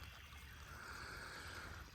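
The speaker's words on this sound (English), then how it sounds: "You can see the creek is rolling from our thunderstorms we had last night." A creek running high after overnight thunderstorms, a steady, even rush of flowing water, faint and uninterrupted.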